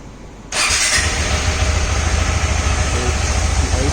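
A motorcycle engine fitted with a full fog-light wiring harness on an adventure bike cranks and catches after half a second of quiet, then settles into a loud, steady idle close by.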